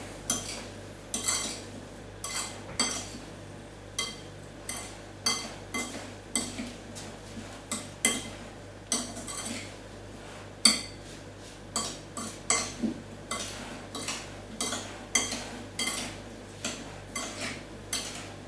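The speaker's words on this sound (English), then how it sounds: "So just give that a big mix" Granulated sugar with cinnamon being mixed in a bowl for a gluten-free apple pie, a spoon scraping and clinking against the bowl in a steady repeated rhythm, close and fairly loud, with no talk.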